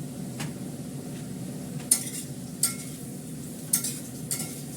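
Potatoes frying in a pan on a gas stove with asafoetida, stirred with a utensil that gives a few sharp scrapes and clinks over a low, steady sizzle.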